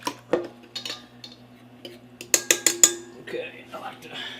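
A fork beats eggs in a bowl for French toast, with a series of quick, close clinks and taps. The strokes come in uneven bursts, strongest in a run of four sharp hits near the middle, with soft room hum beneath.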